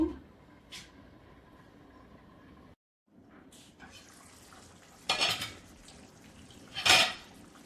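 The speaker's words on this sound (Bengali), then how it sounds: "মাঝে মাঝে ডাকনাটা উঠিয়ে নেড়ে ছেড়ে রান্না করে নেব" A lid is lifted and kebabs are stirred in a pan for Dawood Pasha kebab, heard as a few metallic clanks and scrapes spaced over several seconds, quiet in between, with a brief hush and two louder clatters near the end.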